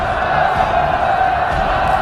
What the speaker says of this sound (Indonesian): Sorak-sorai semua orang menyambut kedatangan para tawanan